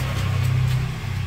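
An older Espass car with a breather catch can fitted runs at a steady engine hum, close by and brief, with no talk.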